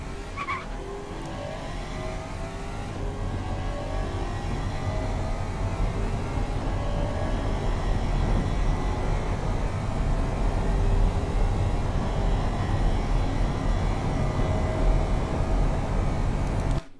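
A 2016 Athena CL9 in the game Automation accelerates hard, its engine note rising steadily under a loud, sustained roar that stays dense and continuous throughout with no talking.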